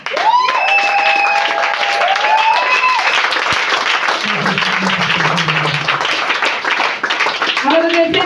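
Church congregation applauding and cheering at a worship service, steady dense clapping that fills the whole stretch, with a sung or chanted voice rising over it at times.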